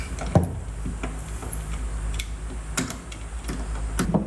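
Quick ratchet wrench clicks while loosening a stock bed tie-down bolt on a Toyota Tundra, several short bursts of sharp metallic ticking spread across a few seconds over faint background hum.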